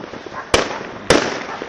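New Year's Eve fireworks over Opole, Poland, at the turn of 2015: two sharp, loud explosions about half a second apart, each cracking out over a low background murmur, with no talking.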